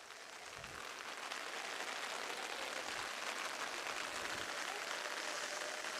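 Rain falls over an outdoor summer soccer match, a faint, even hiss that continues steadily throughout with no clear voices on top.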